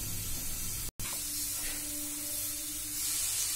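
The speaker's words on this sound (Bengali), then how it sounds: "একটু ভেজে নেব।" Sugar fries in a pan while carrot halwa is being made, a steady close hiss with a sizzling texture that holds throughout, broken only by a brief dropout near the start, with no voices.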